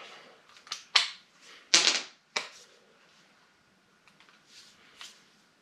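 A torque wrench tightens 19 mm front suspension bolts on a GTO to 72 foot-pounds, giving a handful of sharp, close ratcheting clicks in short clusters, then fainter ticks against quiet.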